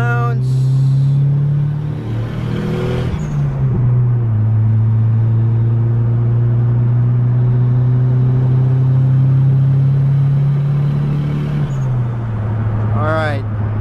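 A Mitsubishi Eclipse 2G on its first drive after an ignition timing change drones loudly from the cabin, its engine tone easing down and settling, then lifting and dropping again near the end, with a voice briefly audible.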